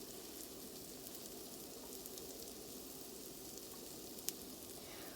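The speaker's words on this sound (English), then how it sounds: "If you listen closely, you can hear it sizzling." Pumpkin pancake batter sizzles quietly in a hot pan, a faint, even crackling hiss that runs steadily throughout with one small pop near the end.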